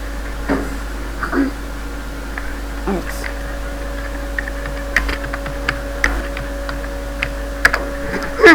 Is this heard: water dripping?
no